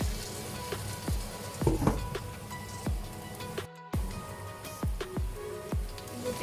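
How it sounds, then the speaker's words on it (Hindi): Water splashed into minced keema cooking in a pan, a steady crackling sizzle with repeated sharp taps of a spoon against the pan and a brief dropout midway. "और इसमें मैं थोड़ा सा पानी ऐड कर देती हूँ"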